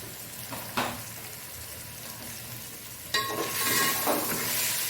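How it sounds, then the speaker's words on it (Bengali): Spices stirred and frying in a pan for egg biryani, a soft continuous sizzle with scraping strokes of a spoon, growing louder and brighter after a sharp clatter partway through. "দিয়ে ভালো করে কষিয়ে নেব।"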